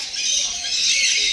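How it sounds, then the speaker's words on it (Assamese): Birds in a bird park squawk in a brief, harsh, hissing burst that carries on without pause for about a second. "এইফালে চৰাইবোৰ কিমান চৰাই আছে"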